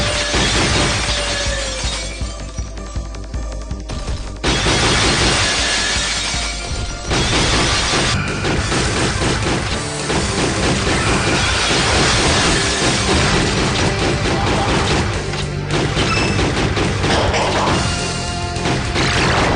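Skeletons in a retro video game break apart with loud shattering-glass crashes, repeating constantly over busy game music and effects, the smashes stacking densely with little pause.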